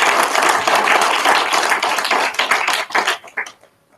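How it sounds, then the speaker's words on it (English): An audience at a panel discussion on racism in Port Elizabeth gives a round of applause, dense close clapping that holds steady and then thins out and fades to a few final claps. "Can I ask everybody in the audience to give our terrific panel a round of applause?"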